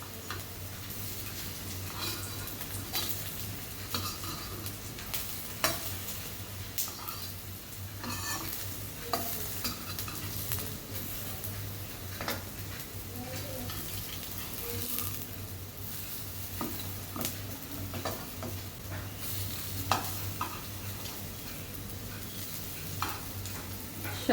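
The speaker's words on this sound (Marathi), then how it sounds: "शॅलो फ्राय करायला त्याला तेल कमी लागतं." Coriander fritters (kothimbir vadi) shallow fry in oil over a medium flame, giving a steady, soft sizzle with small crackling pops and occasional light clicks, close and continuous.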